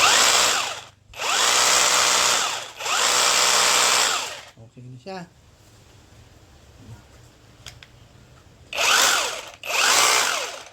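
Loud bursts of a rapid, rattling cordless chipping gun come in three long runs, then pause for quiet clicks and a brief voice before two more bursts.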